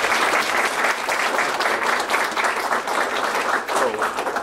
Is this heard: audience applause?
yes